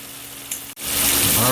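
Shrimp frying in a pan for shrimp and grits: a moderate sizzle dips to a brief gap, then swells into a loud, dense crackling hiss.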